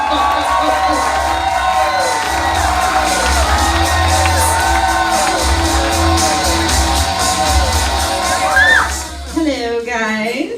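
A comedy club audience cheers, whoops and claps loudly as a comedian is brought onstage, a dense roar of shouts and applause that holds steady throughout, with a voice rising over it near the end.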